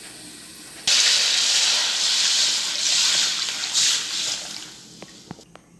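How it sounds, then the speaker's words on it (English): Coke soda is poured into a hot pan of sautéed garlic and onion, setting off a sudden loud, sustained fizzing sizzle that hisses on for several seconds before easing off with a few clinks. "And then we will now pour the Coke soda."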